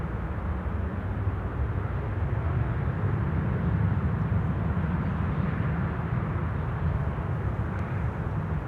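A KLM Cargo aircraft arrives at Amsterdam Schiphol Airport, a steady, distant broadband jet roar that holds at an even level throughout with no voices.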